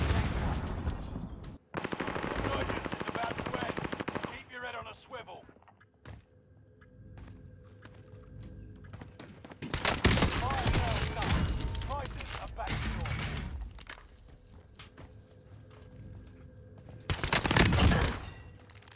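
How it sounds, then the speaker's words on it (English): Loud bursts of rapid gunfire from pistols in a shooter video game come in a few separate volleys, with a player talking between them and game voice prompts. "these pistols are nasty"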